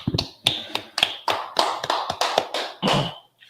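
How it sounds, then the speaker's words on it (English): A small group claps in a room at a law class, sparse uneven hand claps and taps, a dozen or so distinct sharp hits close by, with no talking. "All right, clap it up."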